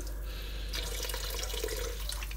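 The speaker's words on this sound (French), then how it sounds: "Et puis, on ajoute l'eau. On vient couvrir, mais pas trop, les légumes." Water pours from a tap into a pot of vegetables being prepared for couscous, a steady splashing rush that starts partway through and runs to the end, close and fairly loud.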